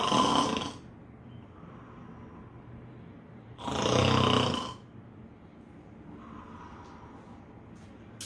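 During a Jack and the Beanstalk storytime, people imitate a sleeping giant's snoring. Two loud, rough snore bursts are heard, separated by a few seconds of quiet.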